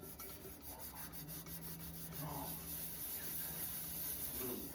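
Revere Ware copper bottom cookware being polished by hand gives a faint, continuous rubbing and rasping over a low hum, with soft scuffs throughout.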